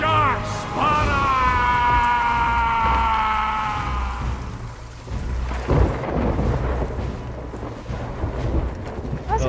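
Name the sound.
thunderstorm in video game Sea of Thieves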